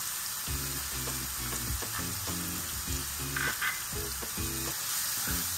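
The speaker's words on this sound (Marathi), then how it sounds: "ते परतून होत आलं की त्याच्यामध्ये थोडीशी हळद आणि मग हा जो कांदा आहे तो कांदा घालायचा" Onion with a little turmeric sautés in a pan for kadhi vada filling, giving a steady sizzle broken by repeated rhythmic stirring scrapes, close and fairly quiet.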